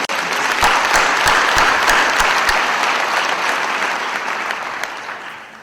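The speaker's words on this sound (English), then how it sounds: "May we give Jimmy a round of applause." Conference audience applauding a speaker named Jimmy, steady dense clapping from many hands that swells at once and then slowly tapers off toward the end, with no talk over it.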